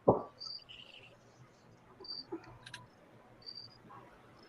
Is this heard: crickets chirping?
yes